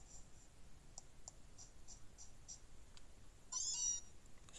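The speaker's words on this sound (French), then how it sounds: "c'est miaou qui rentre dans ma chambre" Meowth's short, bright electronic cry from the Pokémon Ultra Moon video game rings out once near the end, faint over quiet game background with soft repeated clicks.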